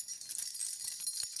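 House keys jangling as a stream alert, a faint bright metallic rattle running steadily for over a second with a small knock near the end.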